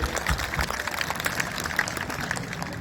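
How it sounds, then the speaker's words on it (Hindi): Applause from a crowd at an outdoor election rally in Khalari, a steady dense patter of clapping lasting throughout, fairly loud and continuous with no voices rising above it. "क्या जोरदार ताली बजाओ आपके सांसद जी के लिए"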